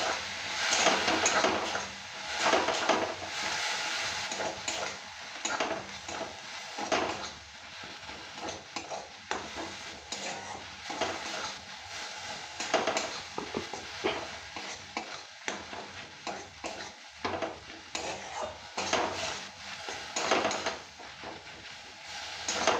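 Snails being stir-fried with spices and a splash of water in a pan, a steady loud sizzle with continuous scraping and stirring strokes throughout, no voices.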